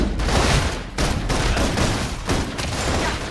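Loud, dense bursts of rapid gunfire in the sci-fi video game Love and Deepspace, heavy volleys close up with a couple of very short gaps, sounding like suppressive automatic fire.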